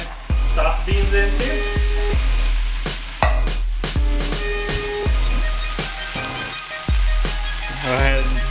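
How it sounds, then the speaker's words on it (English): Soyrizo and black beans frying in a pan, a steady crackling sizzle with repeated scraping stirs and clinks of a utensil against the pan, loud and close, with no talking. "now I'm going to go ahead and toss my half of my packet of soyrizo in there."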